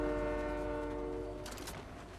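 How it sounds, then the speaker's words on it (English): A train in the Fortnite video game blares its horn as a loud, chord-like tone, then breaks into a rushing rumble as it hits a player, with no talking. "He got hit by the train and died."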